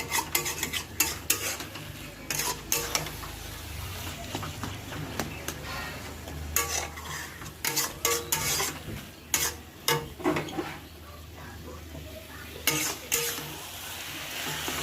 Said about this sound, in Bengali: ভালো করে নাড়তে হবে কচুর শাকটাকে এইভাবে।